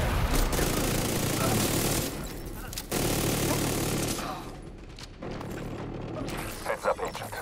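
Gunfire in The Division, dense bursts of automatic shooting and mechanical clatter that cut off abruptly and resume, fairly loud and close, with sparse sharper pops near the end.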